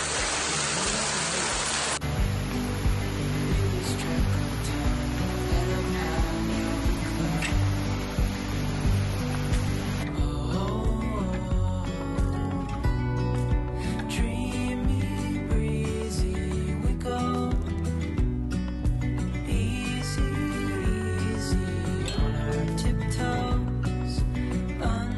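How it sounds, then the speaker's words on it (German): Water pours down a waterfall inside a cave on the Ruta del agua in Buñol, Spain, a broad steady rushing roar that fills the space and continues unbroken throughout. "Look at the water and the waterfall."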